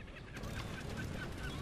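Seagulls in the video game Brütal Legend cry out in a continuous, layered chorus of honking, squawking calls, moderately loud and without talk.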